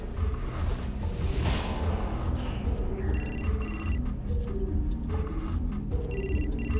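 Telephone ringing in the video game Still Life 2, a repeating electronic ring in short bursts over a dense, murky game ambience, fairly faint.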